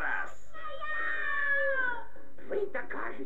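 A cartoon cat lets out a long drawn meow with a wavering, falling pitch, followed by a short rough yowl, close and clear.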